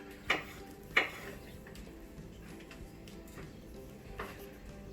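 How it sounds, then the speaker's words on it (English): Stirring a summer salad in a bowl, a few faint clinks of a utensil against the dish spaced irregularly over quiet background, soft and close. "Just stir this up a little bit."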